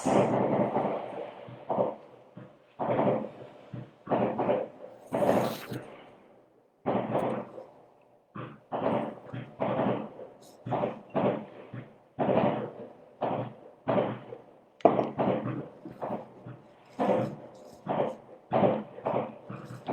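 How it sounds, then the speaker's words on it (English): Fireworks set off outside at New Year, a long run of sharp, loud bangs and cracks going off in irregular bursts one after another, with no talk over them. "people basically buy fireworks from shops and then they just launch those fireworks"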